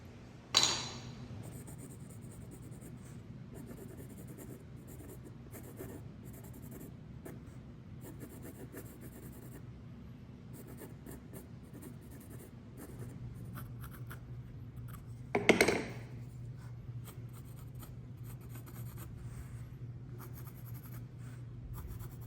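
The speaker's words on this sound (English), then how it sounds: "I'm going to actually draw in some of the wood grains, and these are just Crayola brown and black colored pencils" Crayola brown and black colored pencils drawing wood grain on a renovated 1930s living room surface, a soft, steady scratchy rubbing that runs quietly and continuously, with a couple of brief clinks along the way.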